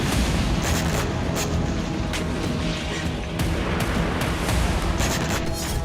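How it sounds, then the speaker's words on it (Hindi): Ukrainian artillery pounds Russian positions in a rapid barrage of loud booms and sharp blasts, repeated impacts overlapping into a dense roar of gunfire without pause. "यहां यूक्रेन की आर्टिलरी रूसी चौकियों पर हमले कर रही है।"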